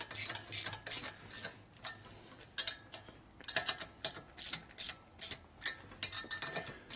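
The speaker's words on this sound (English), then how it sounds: "So you have to loosen up all these base nuts and rotate it a little bit." A ratchet clicks in quick bursts of rapid ticks, close and crisp, while loosening the base nuts on a 1979 Harley Shovelhead 80ci engine under rebuild.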